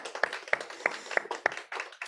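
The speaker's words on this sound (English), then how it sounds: "we just had this moment where we clapped instead of doing this" A few hands clapping at an even pace, about six sharp claps close by in a quiet room.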